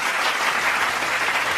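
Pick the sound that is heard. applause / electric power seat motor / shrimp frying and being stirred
applause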